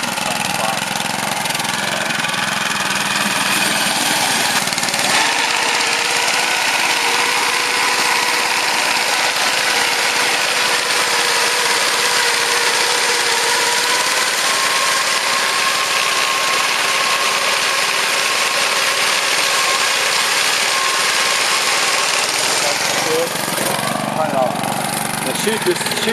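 A golf green groomer fitted with a GreensPerfection brush runs as a steady high-pitched engine whine with a rough mechanical rattle, loud and continuous, changing in tone briefly near the start and end, with voices talking over it.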